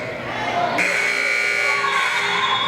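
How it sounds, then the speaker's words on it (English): A loud, sustained electronic buzzer sounds over a noisy gym crowd at a university volleyball game, holding steadily for a couple of seconds. "There's a buzzer and the whistle blows."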